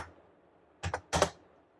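Keystrokes on a computer keyboard, heard as two short, close-together bursts of clicking against a quiet background.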